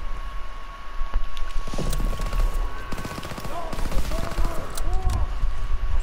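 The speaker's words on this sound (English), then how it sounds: "Pearson, who are you shooting at?" Rapid rattling bursts of gunfire in Call of Duty WWII, dense close shots continuing for several seconds with a steady tone in the background, while voices talk over the shooting.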